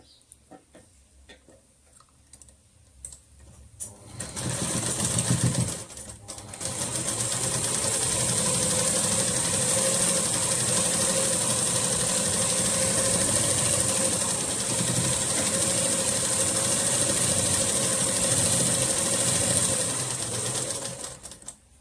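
After a few seconds of quiet handling, a sewing machine starts and runs in a steady, close, rapid whirring stitch along a kurti, stopping briefly once before continuing to the end.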